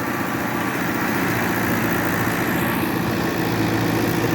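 A New Holland Fiat 640 tractor engine idling close by, a steady, unbroken low rumble with even mechanical chatter that holds constant throughout, with no talk.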